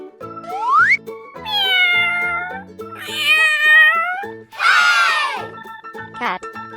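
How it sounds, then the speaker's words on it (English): A children's toy animal plays a series of cat meows, several long sliding electronic mews and a short final one, loud and close over a repeating musical backing. "Cat."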